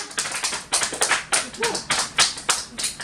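Clapping for a boy in a home family language lesson, a few short bursts of hand claps close by, rising and falling in quick rhythmic groups over about three seconds.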